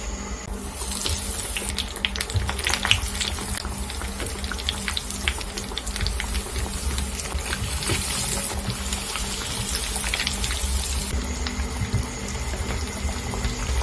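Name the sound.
potato bites frying in hot oil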